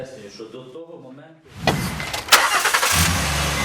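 After someone speaks, an off-road vehicle's engine cranks and catches, then settles into a rough idle with a few clunks nearby.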